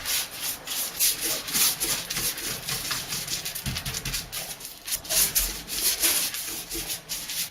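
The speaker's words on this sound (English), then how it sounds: "I'm putting extra paint on the joints and seams here" A paintbrush works RedGard waterproofing paint into the shower's joints and seams, giving a steady close scrubbing rasp with rhythmic back-and-forth strokes that never stops, and no voices.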